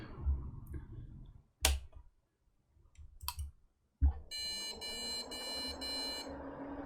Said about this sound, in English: that's 4 beeps